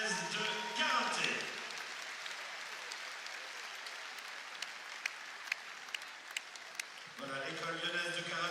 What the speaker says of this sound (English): Applaudissements à l'école lyonnaise de karaté.